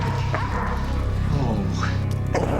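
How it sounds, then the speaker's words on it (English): A puppy gives a few sharp, high yips and short barks close by, scattered across a couple of seconds over a steady low background hum. "It's a nice puppy."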